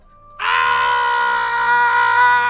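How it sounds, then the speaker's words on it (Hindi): Screams from a man and a woman in a horror-story scene, one sustained, loud, high-pitched cry that starts abruptly after a short quiet moment and holds steady to the end. "वो आदमी और उसकी पत्नी चीखने लगे।"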